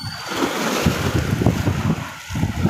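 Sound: strong waves

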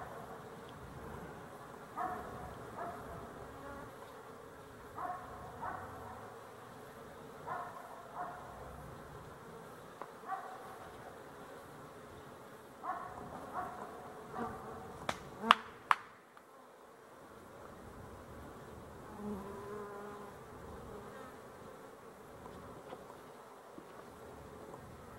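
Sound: buzzing of honey bees

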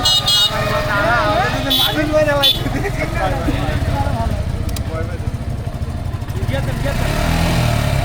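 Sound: motorcycle on a busy road

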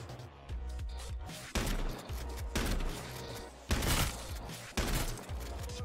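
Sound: shotgun gunfire in the video game H1Z1

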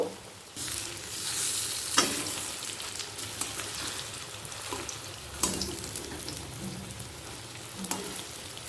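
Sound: frying coriander leaf and onion fritters in oil

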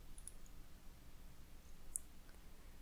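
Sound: computer mouse clicking in Blender

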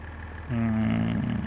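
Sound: tractor engine started and idling in Farming Simulator 25 video game

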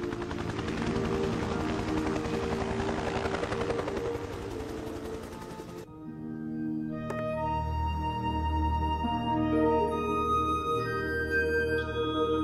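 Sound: helicopter blades

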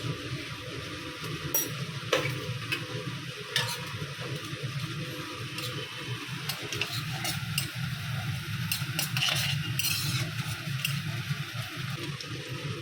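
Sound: radhuni spice seeds frying in oil

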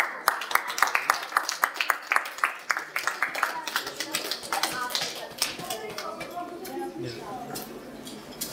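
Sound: applause at a children's award ceremony

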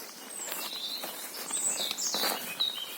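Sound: birds singing in forest

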